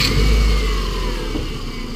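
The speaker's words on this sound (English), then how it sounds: "So the engine is running right now." A car engine idles with engine cleaner added and circulating, a steady close low rumble with a slight rise at the start, settling to an even hum, no talking.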